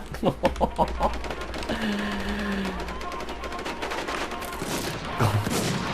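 Rapid bursts of gunfire in the survival shooter game Infestation: a quick cluster of sharp shots up front, then scattered reports under a steady game ambience, moderately loud.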